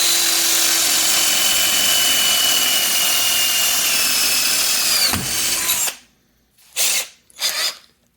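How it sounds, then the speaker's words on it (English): GardenJoy 21V Max lithium-ion cordless drill/driver boring a hole, a loud steady high-pitched whine that runs for several seconds before dropping away, followed by two short bursts of the motor spinning up again. "Let's drill a hole, see what happens."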